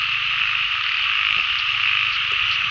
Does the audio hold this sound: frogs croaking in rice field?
yes